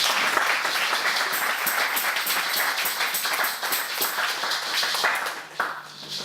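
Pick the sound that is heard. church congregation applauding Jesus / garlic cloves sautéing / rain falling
church congregation applauding Jesus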